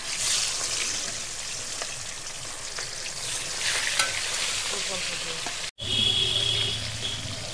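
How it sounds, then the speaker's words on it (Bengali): Pomfret fish frying in hot oil in a wok, a steady, close hiss and crackle of sizzling that continues throughout, briefly cut off near the end before resuming. "এদিকে আমি মাছগুলো দিয়ে ভেজে নেব কড়াইতে।"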